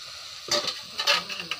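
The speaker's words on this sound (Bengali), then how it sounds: "তেলে ভেজে নিচ্ছে।" Chicken and potatoes sizzle and crackle steadily as they fry in hot oil, with a few soft scrapes of stirring rising out of the continuous hiss, close by and fairly loud.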